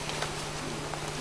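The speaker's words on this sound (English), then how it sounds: "A lot of bees in the air right now." Steady, dense buzzing of a swarm of honeybees close by, a continuous droning hum with no voices.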